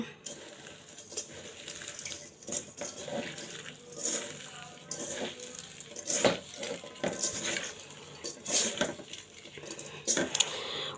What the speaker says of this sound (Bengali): এখন আমি এটা মেখে দিব হাত দিয়ে